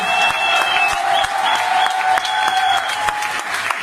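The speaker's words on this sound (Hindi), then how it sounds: "एक स्टैंडिंग ओवेशन हम जोरदार ताली बजाएंगे" A crowd gives a standing ovation, clapping loudly and continuously, dense sustained applause with a few scattered cheers.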